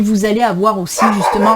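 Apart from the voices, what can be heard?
dog barking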